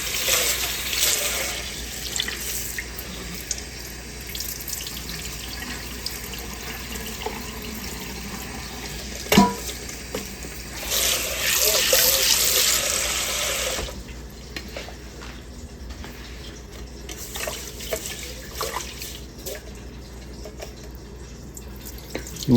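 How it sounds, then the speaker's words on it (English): Rice grains washed by hand in a bowl of water while preparing pan-fried fish with vegetables and rice: steady splashing and swishing with a few sharper sloshes and a louder running-water burst midway, near and moderately loud, no talking. "You want to be careful so that you don't pour the rice out with the wash water"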